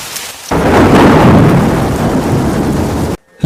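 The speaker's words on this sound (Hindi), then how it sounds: "तभी बारिश शुरू हो गई।" A loud rush of rain bursts in suddenly with a deep rumbling swell, steady and close, then cuts off abruptly near the end.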